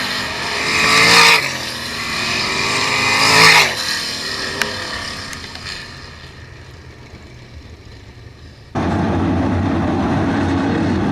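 Race cars roaring past at Attica Raceway Park during a drag race to the checkered flag, engines swelling loud twice as they pass, fading into distance, then a sudden sustained roar of another engine close by.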